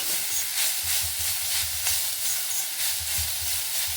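Onions frying in a pan with garlic, ginger and green chilli paste give a steady, close sizzle and hiss, with faint low clinks of stirring underneath and no talk.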